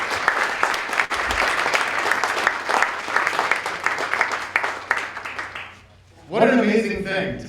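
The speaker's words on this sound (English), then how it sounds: "have a round of applause for all the kids who are in this room" Audience in a high school awards ceremony applauding the children present, a sustained dense roar of clapping for about six seconds that fades out, followed by a speaker's voice.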